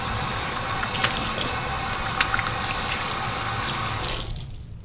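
Tap water running steadily into a bathroom sink while paint brushes are rinsed, a continuous close splashing hiss with a few brief louder gushes, easing off at the end.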